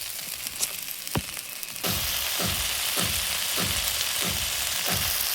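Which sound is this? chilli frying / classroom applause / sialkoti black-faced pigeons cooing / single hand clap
chilli frying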